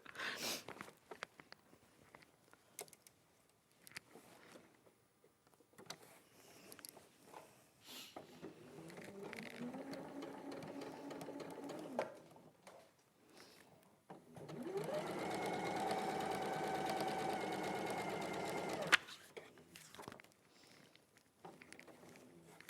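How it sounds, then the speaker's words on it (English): A domestic sewing machine stitches straight across fabric in a quilting demonstration. It runs in two sustained bursts, a shorter one at moderate level and then a louder, steadier run, with quiet handling noises in between. "we're just going to sew across there"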